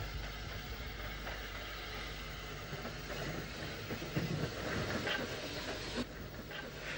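A J15A steam locomotive pulls into Bray station in the 1950s, a steady rolling rumble with rhythmic wheel clatter and hiss of steam, fairly distant and continuous, with a few louder knocks toward the end.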